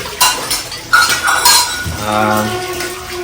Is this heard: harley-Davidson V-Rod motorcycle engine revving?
no